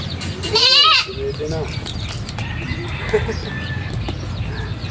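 At a goat breeder's farm, one goat gives a loud, near, quavering bleat early on, followed by softer farmyard noise and a background murmur of people.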